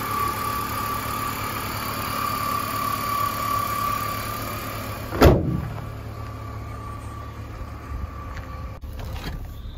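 A BMW E46 330ci Clubsport engine idles smoothly and steadily at close range, with a steady low hum, one sharp knock or thump partway through and a faint click near the end.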